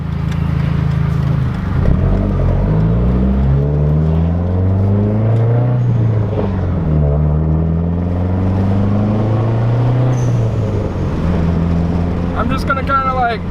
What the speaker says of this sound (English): So I'm probably just gonna do a second gear pull up into third.